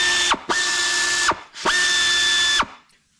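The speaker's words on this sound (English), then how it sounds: "we'll see if this air ratchet changes my opinion" An AIRCAT 809-SH sealed head air ratchet runs in three close, loud bursts, each a steady whirring buzz with a clear tone that cuts off sharply, followed by a brief quiet.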